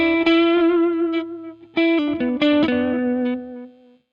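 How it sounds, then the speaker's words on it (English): Clean electric guitar notes through a Keeley Caverns V2 delay pedal, reverb off, controls at noon, ring out, each followed by soft repeating echoes that trail away, ending in a fading tail. "let's activate the delay side, which I'll shut off the reverb temporarily"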